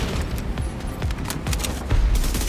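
Rapid bursts of gunfire in The Division 2 during a Warlords of New York mission, dense overlapping shots with a heavier thump near the end, loud and continuous.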